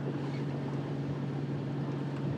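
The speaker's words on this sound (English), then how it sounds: "we are motor sailing, only on gentle revs" A sailboat motor sails under its engine at gentle revs, giving a steady low drone with wind and water noise, faint and continuous with no talk.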